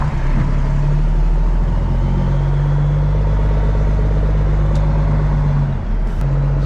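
Diesel engine of a demolition machine idling after a nearly dead battery, a steady loud low rumble with constant droning hum, running alone without talk.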